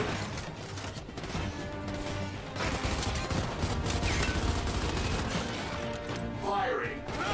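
Gunfire in the video game Gears 5, heard as dense, continuous rattling bursts of shots mixed with mechanical clatter and game effects, loud and sustained across the clip.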